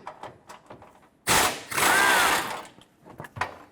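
Power tool burst spinning out a 10mm bumper bolt on a 2009-2014 Ford F-150 frame rail, one loud sustained whir of about a second followed by a shorter second run, with quiet clicks and handling noise around it.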